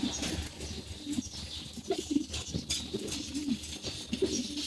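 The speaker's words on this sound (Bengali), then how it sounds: "পাখির ডাক কিন্তু অনেক সুন্দর" Prince pigeons in a loft coo in soft, repeated low rolling phrases, with occasional wing flutters and faint chirps in the background.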